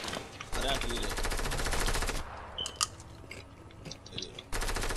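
Video game gunfire in a trio arena match: rapid automatic bursts ring out loud and close in two long stretches, with a scattered quieter exchange between them.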